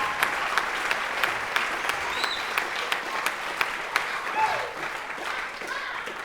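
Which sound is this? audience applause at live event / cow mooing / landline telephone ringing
audience applause at live event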